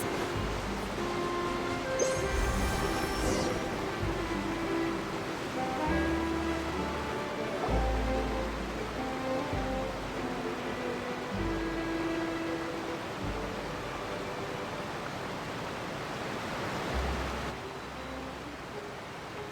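Steady broadband water rush with a low churning hum, continuous and fairly loud, like a boat cutting through water, with faint tonal game music layered over it.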